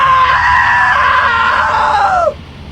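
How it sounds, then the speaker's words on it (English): Man's long, loud, strained scream from the video game What Remains of Edith Finch. It sustains for over two seconds, then drops and cuts off abruptly, leaving quiet background. "Now that was a great scream."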